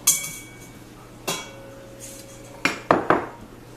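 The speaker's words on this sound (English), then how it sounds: "we're just gonna whisk this together until it's combined" A whisk knocks against a large bowl while flour, baking powder and salt are mixed for candy corn cupcakes: a few sharp metallic clinks and taps, spaced out and then bunched near the end, over a quiet background.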